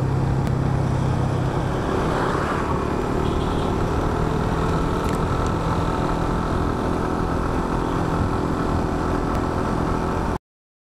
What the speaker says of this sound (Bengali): টোটাল ইঞ্জিন ব্রেকে নামছি